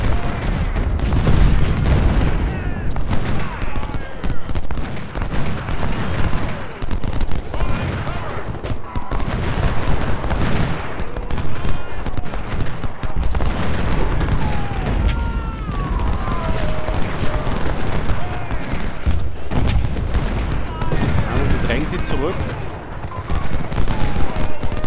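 Continuous heavy musket volleys and booming cannon fire from troops on a Civil War battlefield in the strategy game Ultimate General: Civil War, loud and dense, with rolling crackle and thuds throughout.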